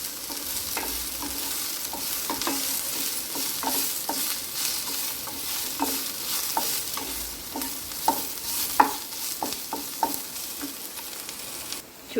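Leaves and tamarind frying in a pan for a coconut chutney, a steady sizzle throughout with repeated scraping clicks and knocks of a spoon stirring them, fairly close and with no talk.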